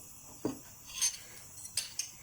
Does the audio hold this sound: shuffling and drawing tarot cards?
no